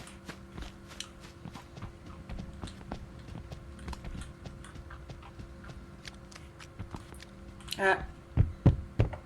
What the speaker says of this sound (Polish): Coś słyszałam, jakieś człapanie.